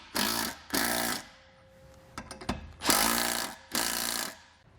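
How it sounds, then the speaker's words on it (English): A power tool runs in several loud bursts of about half a second each, tightening mounting bolts on a jerry can mount for a spare tire on a 2009 Jeep, with metallic clicks and handling sounds between the bursts. "With one of them holding in place, I can go back and add the others. Just go back through, tighten it down."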